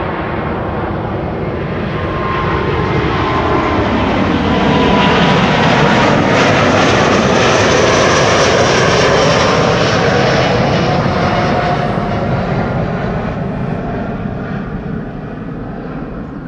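A Delta Airlines jet departs runway 24 at Amsterdam Schiphol, its engine roar building to a broad, loud, sustained rumble that peaks midway and then slowly eases as it moves off.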